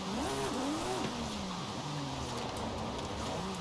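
A Nissan R34's RB engine revs in Forza Horizon 5, its tone rising and falling in steady sweeps as the car is driven, held close and constant without a break.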